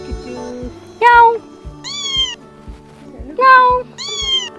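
A small kitten in the village of Nako, Kinnaur, meows loudly and close by, several high, drawn-out meows in turn with a woman imitating its meow.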